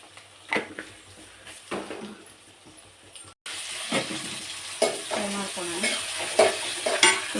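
Mustard seeds dropped into hot oil on a home stove, a steady sizzle and crackle with scattered pops, rising louder partway through after a brief break, alongside occasional stirring.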